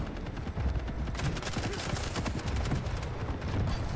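Machine gun fire in the arena shooter game Quake Champions, a dense continuous rattle of rapid shots heard loud and steady throughout, with no talking.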